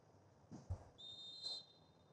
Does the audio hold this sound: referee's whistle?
yes